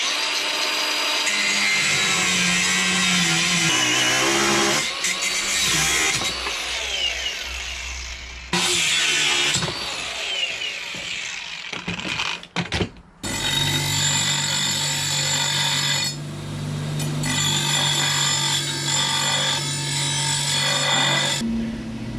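An angle grinder cuts a wedge into the end of a metal bar during a Suzuki Vitara ARB Air Locker install, a loud continuous whining grind with pauses and restarts, close up.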